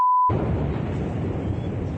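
Explosion in Novofedorovka, Crimea, heard from a played video during wartime: a sudden loud blast breaks in after a short beep tone, then a dense, sustained roar and rumble continues without voices.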